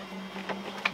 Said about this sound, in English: now the printer is in the homing sequence